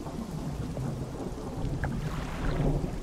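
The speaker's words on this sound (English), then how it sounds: "It's a storm brewing." A thunderstorm in the fishing game DREDGE: steady heavy rain with deep, rolling thunder rumbling continuously and swelling slightly toward the end, with no voices.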